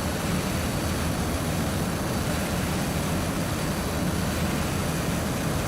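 An aircraft engine in Garry's Mod drones loudly and steadily, a dense continuous roar with a low rumble that holds unchanged from start to finish, no voices.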